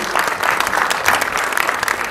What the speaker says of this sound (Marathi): जोरदार टाळ्या झाल्या पाहिजेत या ट्रेलरसाठी